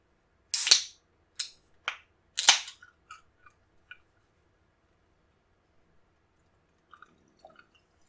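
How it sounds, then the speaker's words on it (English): Ice cubes dropped into a highball glass and ginger beer poured over them: several sharp clinks and clatters in quick succession, then faint trickling and fizzing, close and otherwise quiet. "In the highball glass, fill it with ice, pour the ginger beer."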